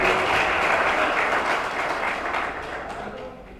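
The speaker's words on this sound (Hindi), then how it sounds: "तो भाई इनके लिए एक मरतबा फिर दोबारा तालियां" A gathering of pigeon fanciers applauds the winner of a 51-pigeon race, a thick burst of clapping that fades gradually, with faint chatter underneath.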